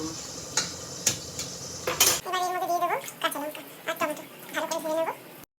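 Washed Gobindobhog rice being mixed into a pot for a coriander khichdi, with spoon clinks and scraping knocks against the metal, followed by a few short bursts of stirring under light background sound.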